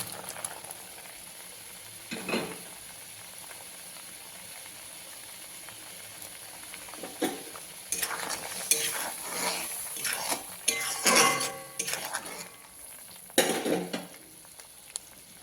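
Fried shrimp and slit green chilies added to a pan of gravy, with sizzling and frying, scraping and clinks of a utensil against the pot in bursts over a steady low hiss.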